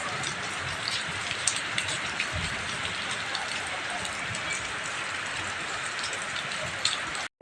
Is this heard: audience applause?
no